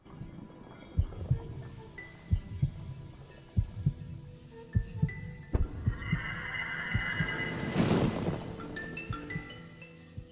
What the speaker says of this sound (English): Hark! Is that a heartbeat?